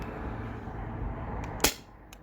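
A T4E TR68 or HDR68, or a Sabre 68 home defense launcher, fires a 9.9 gram riot ball with one sharp, close crack partway through. A couple of faint clicks follow, over a low background hum.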